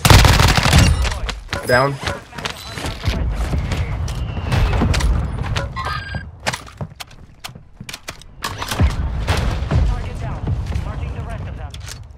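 Grenade launchers and gunfire crack and boom in rapid, loud bursts during an online shooter battle, with dense overlapping explosions and shots while players talk over the action.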